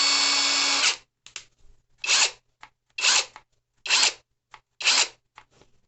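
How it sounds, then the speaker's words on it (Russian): An ENZT 600 Nm cordless impact wrench from China runs close and loud, first a sustained whir of about a second, then several short bursts of motor spin separated by silences. "Так, ребята, гайковерт успешно собран."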